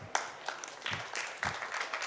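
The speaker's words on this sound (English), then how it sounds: "I think they need a round of applause" Scattered clapping from a conference audience for recently graduated students, uneven bursts of hands with gaps between them, fairly close and moderate in level.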